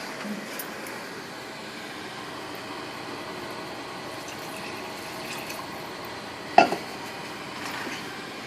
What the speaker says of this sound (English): I'm going to add my 1/2 cup of water